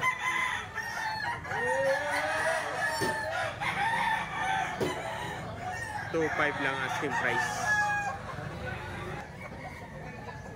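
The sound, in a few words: rooster crowing and clucking, chicken for sale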